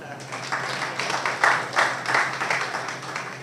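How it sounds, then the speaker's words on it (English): Audience applause greets the British High Commissioner at a coconut and spice product launch in Coronie, a steady wash of many hands with a few louder swells, mixed with faint talk and a low hum. "An applause"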